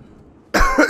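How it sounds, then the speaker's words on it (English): A single sharp, loud cough from a man recovering from an illness bursts out abruptly after half a second of near silence, harsh and close to the microphone. "Sorry about the cough."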